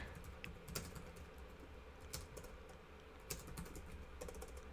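Rapid, uneven keystrokes clatter on a computer keyboard, quiet and close, with scattered louder key hits and no talking.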